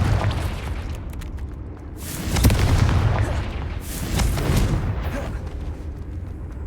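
Confringo blasting curse explosions from the Hogwarts Legacy video game, a run of booming bursts with rumbling low end, the biggest blast landing near the middle and another following, over a steady noisy game background.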